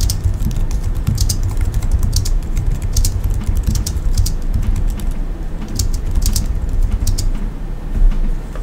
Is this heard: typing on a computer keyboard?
yes